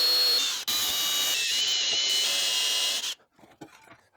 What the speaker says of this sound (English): So I'm going to go ahead and drill and tap it